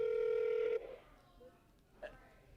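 An outgoing phone call rings out as a single steady tone that cuts off after under a second, followed by quiet room sound and faint voices.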